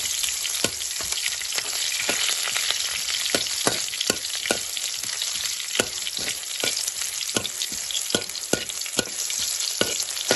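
Oil sizzles steadily as shallots fry, with sharp crackles and pops of spattering scattered throughout and a spoon stirring now and then, close by.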